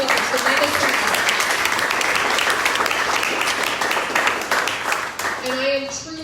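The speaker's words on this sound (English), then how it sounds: "I would like for everyone in the audience to please just give a round of applause to all of the candidates" Audience at an outdoor rally applauds the political candidates with steady, sustained clapping that fills the whole stretch, with faint voices and a brief tonal sound near the end.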